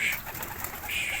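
Pigeons cooing inside a loft, a low soft coo running steadily through a brief moment with faint background noise.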